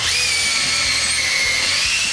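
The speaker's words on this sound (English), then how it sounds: "Just going to keep drilling." A power drill whines continuously at high pitch, boring steadily into wood to reach drywood termite galleries, with faint low knocks beneath, close and loud throughout.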